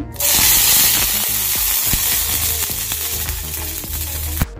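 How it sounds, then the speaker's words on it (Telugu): Dried red chillies dropped into hot oil for village-style brinjal chutney, a loud, dense, close sizzle that bursts on suddenly and hisses steadily, with occasional clicks of stirring and a sharp knock at the end. "కొద్దిగా ఆయిల్ వేసుకోవాలి. ఆయిల్ వేసుకున్న తర్వాత ఎండుమిర్చి,"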